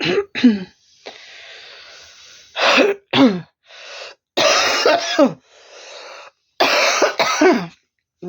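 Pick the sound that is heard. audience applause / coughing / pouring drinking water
coughing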